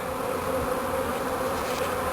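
A honeybee swarm drones steadily as the bees enter a hive, a dense, continuous close-up buzz with no voices.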